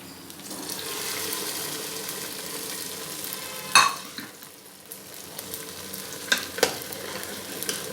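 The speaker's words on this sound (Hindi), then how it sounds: "चलें बघार लगाते हैं।" Hot tempering oil sizzles into a pot of chicken nihari, a steady frying hiss with a sharp crackling burst midway and a few metal clinks and scrapes afterward.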